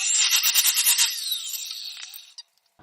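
Metal tube being notched for a tricycle axle: a quick run of about eight rhythmic rasping strokes, then a thinner scraping whine that fades before a short knock and silence. Close and fairly loud, with no talk.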